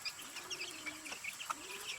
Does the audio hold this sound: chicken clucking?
yes